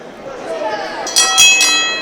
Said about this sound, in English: The bell sounds and this title match is underway.